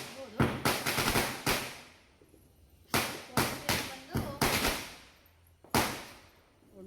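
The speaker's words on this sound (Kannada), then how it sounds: "ಒಂದು ಮಾಲೆ ಪಟಾಕಿ ಹೊಡಿತಾ ಇದೆ" Bursts of rapid crackling pops from a string of firecrackers going off in several separate volleys, loud and sharp with short pauses between.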